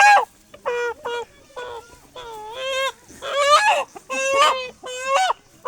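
Assam chickens cluck and squawk in loud, close bursts, a series of about eight nasal, honking calls separated by short pauses, with little else underneath.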